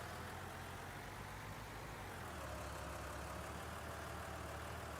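A tractor engine idles steadily in Farming Simulator 19, a low, continuous drone with a slight shift in its tone partway through, heard alone with no talk.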